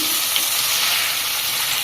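Chicken pieces frying in hot oil in a pan make a loud, continuous sizzle that stays even and close from start to finish, with no talking.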